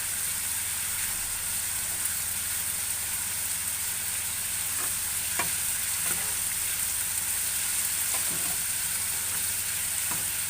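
Minced fat fries in a pan for homemade shawarma, giving a loud, steady, close sizzle with occasional faint pops and stirring scrapes.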